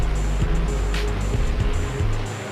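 Monster trucks roar away at the start of a stadium race in Salt Lake City, a loud deep engine rumble with surging revs and crowd-filled arena ambience, steady and close.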